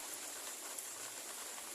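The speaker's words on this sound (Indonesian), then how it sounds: "Dan di sini cuacanya hujan ya sahabat." Steady rain falls on a village in Garut, West Java, making a dense, even hiss that continues without a break and with no voices.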